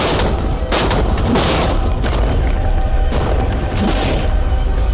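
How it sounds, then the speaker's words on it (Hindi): Tanks fire rapidly in a video game, a dense run of booming shots and blasts layered over one another, loud and continuous for several seconds. "टैंक्स की रैपिड फायर से मजा आ रहा है"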